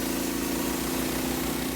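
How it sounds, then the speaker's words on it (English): A Frontier portable sawmill's engine runs at a steady, even drone, close and continuous with no pauses or voices. "One single action simultaneously throttles up the engine, powers the blade"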